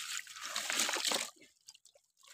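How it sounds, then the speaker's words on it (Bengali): Fish poured from a net into a crate after a knot is untied, a loud wet rushing splash lasting about a second, then a few small drips and splatters, close by. "এই গিট্টুটা খুলে তারপর মাছটা ঢেলে দিতে হবে ক্যারেটে।"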